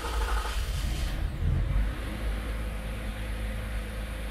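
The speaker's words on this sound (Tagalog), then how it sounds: "So okay, engine start." A Toyota Avalon engine with a cold-start misfire cranks and catches, a brief rough burst settling into a steady low idle rumble, close and alone.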